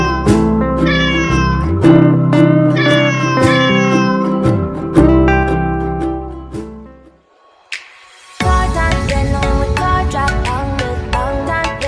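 A kitten hiding from the rain meows repeatedly, giving loud, close, drawn-out cries that pause briefly before resuming.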